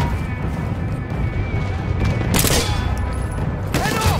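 Gunfire in the World War I shooter Battlefield 1 on PS5, a dense battlefield din of shots and a couple of sharp louder bursts under a constant rumble, with no talk over it.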